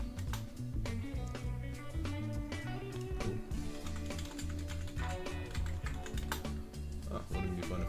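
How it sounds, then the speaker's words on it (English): A password is typed on a computer keyboard as a fast, steady run of close, light key clicks with no talking. "Let me actually type in the password."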